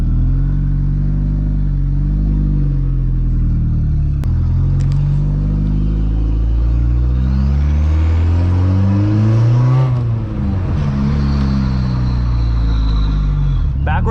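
A 1.8T-swapped VW Golf 3 cruises up the street, its engine droning steadily and loudly as it revs and shifts through rising and falling pitch, with voices talking over the car noise.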